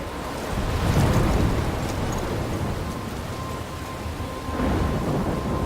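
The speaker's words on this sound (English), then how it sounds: "I'm trapped in a storm?" A thunderstorm in the video game Life Is Strange, with heavy steady rain and deep rolling thunder that swells early and again near the end, loud and enveloping with no voices.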